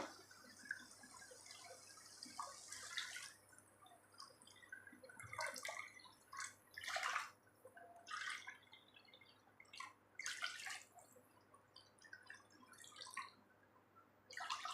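Water trickles and splashes intermittently into a pot for rava kichadi, irregular pouring bursts, fairly close and soft, with no talking.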